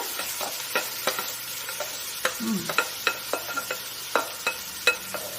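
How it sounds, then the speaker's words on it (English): Jerusalem artichoke pieces sauteing in a soup pot with translucent onions, a soft sizzle under a series of sharp spoon scrapes and stirring clacks repeating every half second or so, close and fairly quiet, no voices. "And we saute it for a little bit."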